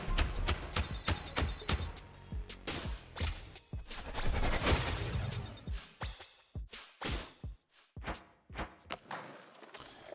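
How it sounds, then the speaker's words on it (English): Telephone ringing in the video game Thirsty Suitors, a trilling electronic ring over game music and percussive hits at first, then thinning into sparse clicks and thumps. "And now the horrible phone sound is gonna play again."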